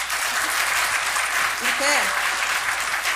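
A church congregation at an evangelism festival applauds loudly in sustained, full clapping, while a voice speaks briefly over it.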